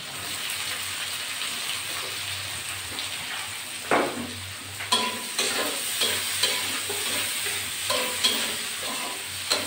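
Onions and chopped garlic fry in a pan with black cumin for a potato bhaji, a steady sizzle broken by repeated scraping stirs of a spatula, close and clear.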